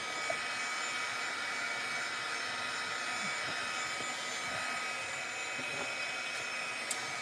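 A hair dryer blows steadily on its heat setting, drying something front and back; a constant, fairly quiet airy whine continues throughout with a couple of faint clicks, and no talking.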